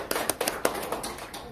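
Seminar audience at a Korean family law conference claps to welcome a lawyer speaker: a short burst of scattered, uneven hand claps, fairly close, with a faint voice beneath.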